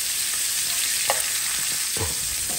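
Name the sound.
fish frying in a pan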